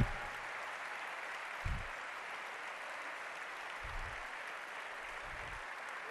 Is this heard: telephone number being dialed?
no